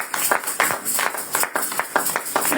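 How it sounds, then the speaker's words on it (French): A church congregation breaks into steady, lively applause, many hands clapping together in a dense, continuous wash with rhythmic peaks throughout. "Acclamez la parole de Dieu."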